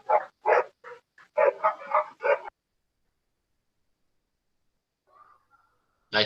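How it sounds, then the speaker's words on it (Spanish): A dog barks and yips in a quick burst of several loud, close barks, then falls silent before a faint whimper and one more bark at the end, heard through an online class microphone. "Elina, si puedes apagar tu micrófono, que está el perro gritando ahí"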